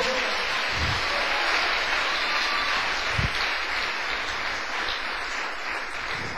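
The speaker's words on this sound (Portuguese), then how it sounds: "Uma salva de palmas para o Senhor." A church congregation applauds steadily for about six seconds, a dense, even wash of clapping that fills the room with no pauses.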